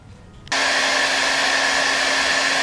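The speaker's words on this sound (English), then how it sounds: "I'm going to warm that up with a hairdryer before I put this on." A hairdryer switches on abruptly after half a second of quiet and runs at a steady, loud, close whoosh with a constant whine, used to warm a part on a Yamaha FZR motorcycle being restored in a cold workshop.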